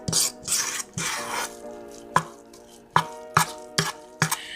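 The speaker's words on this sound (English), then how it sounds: "Stir in these chips" Chocolate chips get stirred by hand into thick keto cookie batter with a spoon, producing raspy scraping strokes followed by a series of distinct close knocks and scrapes against the bowl, with no talking.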